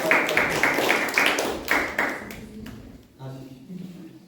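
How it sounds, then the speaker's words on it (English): Brief applause for a guest at a Toastmasters-style club installation ceremony, several sharp claps over the first couple of seconds fading out as a speaker starts talking. "Please give a round of applause for Asif."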